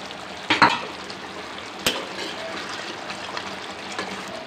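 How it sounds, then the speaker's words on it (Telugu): Coriander and mint being stirred into a red chicken curry in a pan, with a sharp scrape near the start and another brief clink later over a soft, steady background sizzle. "ఇప్పుడు దీంట్లో కొత్తిమీర వేద్దాం. కొత్తిమీర, పుదీనా 2 కలిపేసి"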